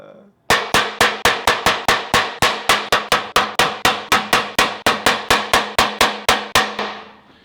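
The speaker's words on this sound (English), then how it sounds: "Don't you ever get sick of the hammering sound?" Rapid series of sharp metallic hammer strikes on car body metal, about twenty blows at a quick steady rhythm, each ringing briefly before the next, loud and close.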